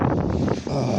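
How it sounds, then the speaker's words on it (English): Outdoor wind buffeting a microphone, a dense low rumbling roar that swells and dips briefly before surging again, close and constant throughout with no talking. "Oh, this wind."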